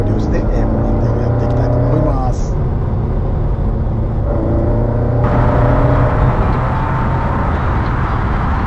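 A carbureted Datsun Sunny Truck drives along the National Route 55 bypass, heard from inside as a loud, steady engine drone with pitch shifts like gear changes.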